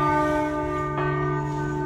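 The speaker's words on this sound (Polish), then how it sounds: "I za chwilę rozbuja się dzwon jasnogórski i oznajmi wszystkim," The church bell at Jasna Góra rings for noon: a sustained, humming tone with a fresh strike about midway, loud and resonant, with no voices.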